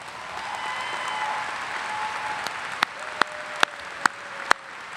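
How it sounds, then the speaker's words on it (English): A large audience applauds at a spring commencement ceremony at Augusta State, a broad, even wash of clapping with a few sharp individual claps standing out near the end. "Please give them a round of applause."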